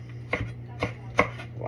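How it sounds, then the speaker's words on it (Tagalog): Three crisp knife strokes chop a long green chili on a board, evenly spaced, close and clear over a low steady hum. "I gonna chop this special long chili, okay? Green chili."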